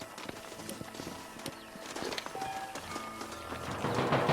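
Horses in the Red Dead Redemption video game walk after their riders dismount in a canyon. Several overlapping hooves clip-clop unevenly at close to mid distance, mixed with game ambience and faint clanks, and grow slightly louder toward the end.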